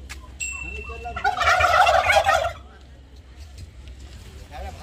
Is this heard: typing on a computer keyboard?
no